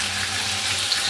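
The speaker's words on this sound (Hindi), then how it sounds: "तो देखिए इधर मैंने सब्जी छौंका है" Vegetables are tempered in a pan on a home kitchen stove, giving a close, continuous hissing sizzle that holds steady without pause or talking.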